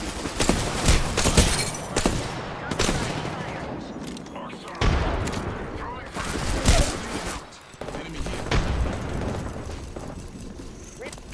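Video game gunfire in dense, loud volleys of rapid shots with heavy booming bursts, continuing almost without pause while game voices and talk sit underneath.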